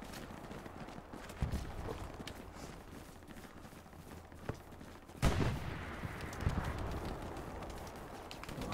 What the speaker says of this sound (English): We're taking a lot of fire.